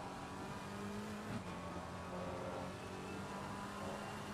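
A BMW GT3 race car engine at Paul Ricard in the racing game Assetto Corsa Competizione, a steady, fairly faint droning drone of the motor at sustained speed.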